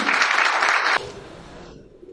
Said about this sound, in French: On applaudit très fort pour le couple Moulou.